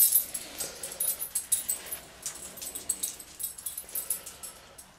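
A dog whimpers and whines in short, repeated high-pitched bursts just before going out for a walk, fairly close and continuing steadily throughout without any talk.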